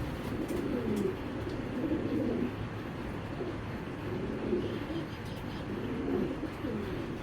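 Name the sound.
pigeons cooing, breeding pair of racing pigeons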